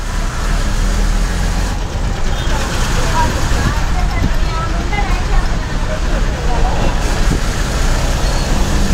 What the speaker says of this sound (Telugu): ఈపూర్ బస్సు నడక